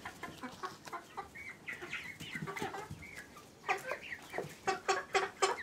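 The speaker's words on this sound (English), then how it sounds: "she's quick for a one-legged chicken" Backyard hens clucking around the coop at breakfast, including a quick one-legged chicken, with repeated close clucks that grow louder and denser toward the end, no talk over them.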